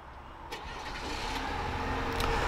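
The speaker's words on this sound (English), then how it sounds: "And this truck also has remote start" A 2024 GMC Canyon AT4X AEV Edition pickup fires up by remote start, a steady mid-pitched engine hum that rises and settles into a close, even idle without any voices.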